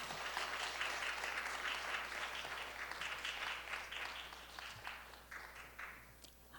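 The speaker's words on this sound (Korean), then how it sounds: "한 번 더 큰 박수를 보내주시기 바랍니다." Applause from an audience at a ceremony after a soprano's song, a faint, steady spatter of clapping that thins out toward the end.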